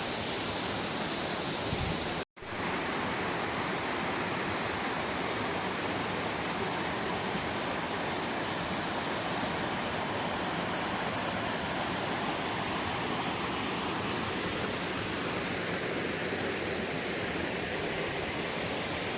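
Rushing water at the Canyon of Waterfalls in the Rhodope Mountains, a loud, unbroken broadband roar of a waterfall and mountain stream, cut briefly by a short gap near the start.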